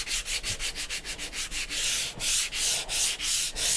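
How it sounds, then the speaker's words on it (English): Sandpaper scraping paint off a painted surface, wearing down corners and edges: quick rhythmic back-and-forth strokes, about a dozen close together, then slower, longer rasping passes, close up with no talking. "I'm actually sanding the paint away"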